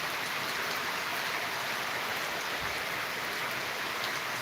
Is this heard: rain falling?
yes